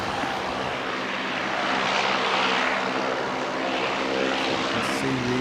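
A propeller aircraft arriving as flight 710 from Invercargill, its engine drone steady and fairly loud throughout as it passes.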